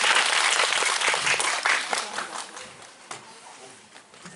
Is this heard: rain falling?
no